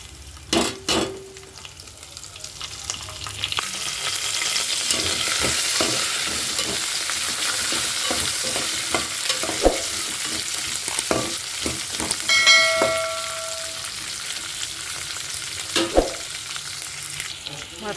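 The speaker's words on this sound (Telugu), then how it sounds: "ఫస్ట్ అయితే ఆయిల్లోకి కాజు అనేది వేసేస్తున్నానండి. కాజు కూడా బాగా ఫ్రై అవ్వాలి కదండి" Cashews fry in hot oil with a constant bright sizzle and crackle, plus occasional scraping clicks of stirring in the pan, loud and close throughout.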